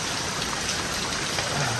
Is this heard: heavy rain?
yes